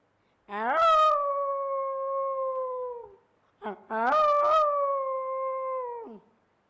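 Two long, rising-then-steady howls imitating a wolf howling from a mountain at a school day event, each held for a couple of seconds with a short yelp between them, loud and close, with no other talk.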